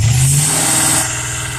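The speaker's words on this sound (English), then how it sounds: "when you rev the motor up, it's going to go into pre-position" A Fox Body Mustang engine revving up close, loud throughout and easing slightly toward the end, with no talking.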